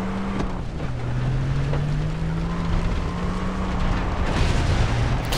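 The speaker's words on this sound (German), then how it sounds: "Der Motor kann noch was." A vehicle engine in the video game Far Cry 3: Blood Dragon drones continuously with a steady low hum and a slowly wavering pitch, loud and alone with no speech.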